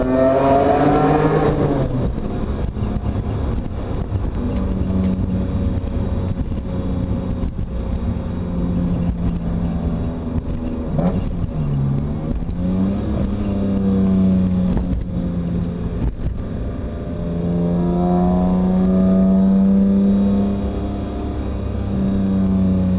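A 2002 BMW E46 M3 coupe with a six-speed manual accelerates hard while driving, its straight-six engine climbing in pitch through the revs, dropping briefly at a gear change, then pulling up again, loud and steady from inside the car.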